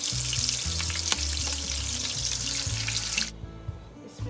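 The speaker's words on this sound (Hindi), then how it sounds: "ये ऑयल हमारा गर्म हो गया, इसको हम थोड़ा थोड़ा फ्राई करेंगे" Food fries in hot ghee and oil in a frying pan with a bright, dense sizzle and a few clatters, then the sizzle drops away abruptly, leaving faint background sound.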